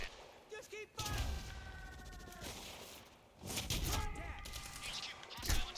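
Gunfire in the video game Quantum Break, heard as several loud, dense bursts of shooting separated by brief lulls, with game voices and tonal sounds underneath.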